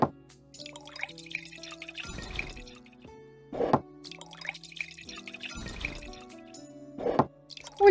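A drink is poured at a tavern bar in the video game Tavern Manager Simulator: four short splashing pour bursts, evenly spaced, rise over steady game background music.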